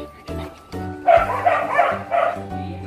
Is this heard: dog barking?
yes